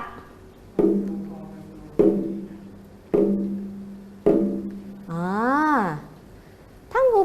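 A drum is struck slowly and evenly, about once every second, each resonant beat ringing out and fading before the next, with a sliding voice breaking in near the end.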